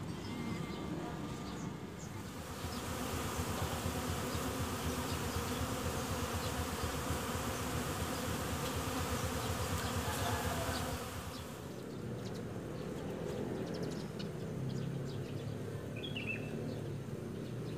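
Stingless honey bees buzz at their hive box in a dense, continuous drone that is louder through the middle and then eases, with faint bird chirps in the background and no talking.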